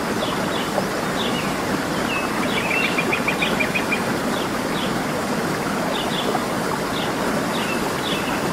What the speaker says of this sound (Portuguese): você pode notar uma pequena cachoeira à direita da ponte